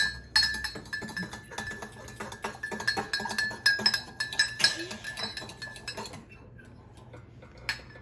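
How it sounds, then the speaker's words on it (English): A fork clinks and scrapes round a bowl as an egg is stirred for a thick rock cake mixture, with rapid metallic chinks that fade out toward the end, and some quiet voices under it. "So, Robbie, can you use the fork to stir that egg round?"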